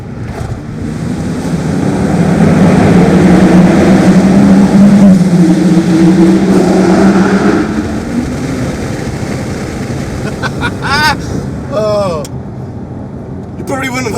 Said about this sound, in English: there's a bunch of supercars coming through at the same time